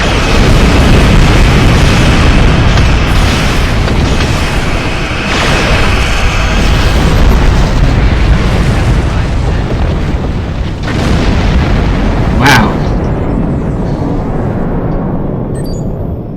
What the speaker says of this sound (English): Fire torpedoes!